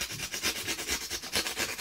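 A serrated knife sawing back and forth into a display board, a close rhythmic rasping that repeats about every quarter second with no voices.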